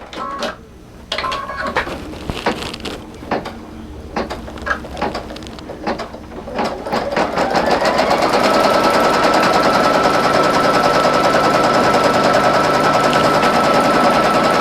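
A single-needle embroidery machine sews an appliqué tack-down on an in-the-hoop mug rug, starting with scattered clicks and taps before settling into a loud, continuous, rapid stitching drone.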